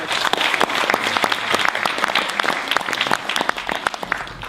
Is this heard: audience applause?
yes